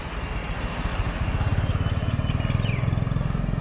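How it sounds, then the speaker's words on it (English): A single motorbike engine putters steadily nearby on a quiet street in Siem Reap, its low, even pulsing holding for a few seconds with faint traffic noise around it and no talk. "One motorbike."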